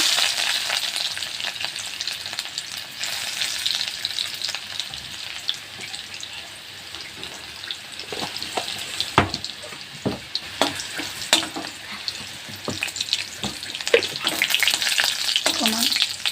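Garlic sizzles steadily in a little hot oil in a kadai wok, a continuous bright frying hiss with occasional stirring scrapes and clinks, close and alone with no talk.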